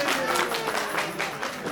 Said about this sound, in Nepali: जवाब ताली मार्नु होला, ताली मार्नलाई मान्छे गर्नु होला।